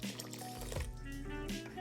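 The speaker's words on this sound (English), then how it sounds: "add another cup of boiling water" Boiling water poured from a cup into a pot of gently simmering Japanese rice porridge, a brief quiet gurgling fill with a rising liquid tone, heard close and alone.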